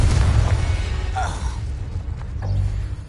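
The Confringo fire spell in Hogwarts Legacy bursts as a loud, deep rumbling boom that rolls on for about three seconds, with crackling debris on top.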